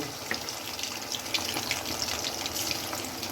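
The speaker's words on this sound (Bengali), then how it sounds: "এখন আমি এভাবে মিডিয়াম লো হিটে সবগুলো চিকেন" Flour-coated chicken pieces fry in hot oil over medium-low heat, a continuous close sizzle dotted with small crackles and pops, with no voices.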